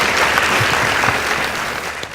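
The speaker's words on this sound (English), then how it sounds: "Please give them a round of applause" An audience at a school competition between two girls' secondary schools breaks into loud, continuous applause that holds steady and then eases slightly at the end, with no speech over it.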